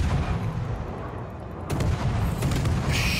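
British HE shells fire during a World of Warships match, a heavy rumbling barrage under dense game noise with a sharper burst of shots partway through, loud and continuous.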